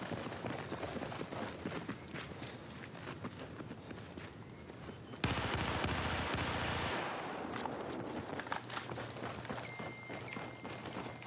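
Gunfire from an AK rifle in a PS4 match during an esports finals, with a dense, loud burst of shots starting midway after a run of rapid footstep-like clatter.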